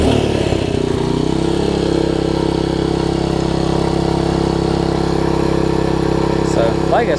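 A Troy Bilt Tuffy tiller's small engine, fitted with a new cable, carburetor and gas cap, restarts and settles into a steady, loud, close running drone that holds evenly throughout.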